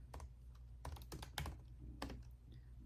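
Keystrokes on a computer keyboard tapped in short irregular bursts while a search term is entered, close and moderately quiet, with no talking.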